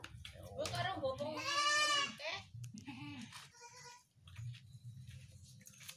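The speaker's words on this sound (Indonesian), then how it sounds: "itu kambing yang umurnya baru, baru satu, satu bulan." A one-month-old male Javanese Randu goat bleats loudly in a long, wavering cry near the start, followed by shorter calls, with a person speaking nearby.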